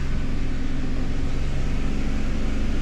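A car engine is held at about 2500 rpm, giving a steady, loud, even drone with a constant low hum and no change in pitch, no talk.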